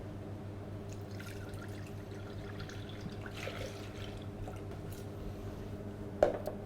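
Whole fat milk pours into a Thermomix, a soft low trickle and dribble under a steady machine hum, ending with a small clunk.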